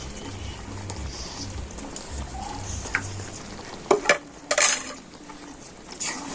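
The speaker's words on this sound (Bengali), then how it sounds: "আর ভাজা মশলার সাথে সব কিছু ভালোভাবে আমি নাড়াচাড়া করে নিচ্ছি" A raw mango pickle with roasted ground spices is stirred in a pan, giving a soft continuous sizzle under a low hum, then several sharp spoon scrapes and clanks against the pan.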